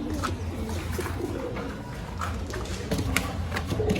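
Pigeons at a loft coo softly and steadily during feeding time, a low continuous murmuring chorus with faint background noise.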